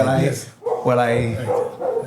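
Dogs bark and yip close by in short, rapid bursts, their calls blending with human voices talking over the noise.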